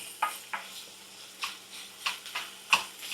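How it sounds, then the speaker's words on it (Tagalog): Onion sautéing in a pan, soft steady sizzle broken by several light scraping stirs at irregular intervals, close and fairly quiet with no talk. "Saute together until the onion become translucent"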